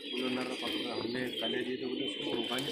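A domestic high-flying pigeon coos in a rooftop loft while men chat nearby, the soft cooing threaded under their steady talk throughout.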